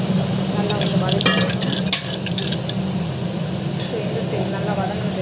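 Vegetables sauté in a pan for tamarind kuzhambu with fenugreek, a low steady sizzle with occasional scrapes and clinks of a stirring utensil.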